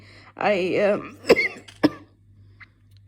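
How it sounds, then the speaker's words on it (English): A voice makes a drawn-out, croaky sound, followed by two sharp, close coughs and a faint click afterward, from a person with a bad cough of a few days. "I've started with a really bad cough over the last couple of days"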